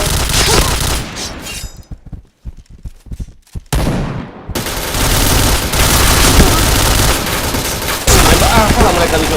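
Loud, dense video game gunfire rattles in rapid bursts and volleys, thinning into scattered shots for a moment before the full barrage resumes.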